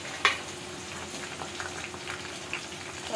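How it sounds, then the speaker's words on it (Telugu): Dried prawns frying in a pan with tomato, onion and green chillies, a close steady sizzle and bubbling crackle with a sharp pop near the start. "ముందుగా ఈ రొయ్యలు అయితే మనం ఇందులో వేసేసుకుందామండి"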